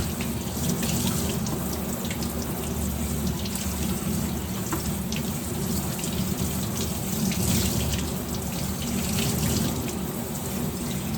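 Tap water runs steadily into a sink while tie-dyed fabric is rinsed, a continuous close splashing flow with no voices over it.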